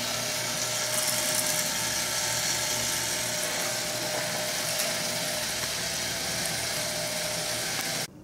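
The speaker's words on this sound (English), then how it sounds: "I'm running the 16 millimeter film today that is just really totally warped and is really just a mess" A 16 millimeter film projector runs warped film, giving a continuous loud mechanical whir with fine rapid clatter and a steady tone throughout, cutting off at the end.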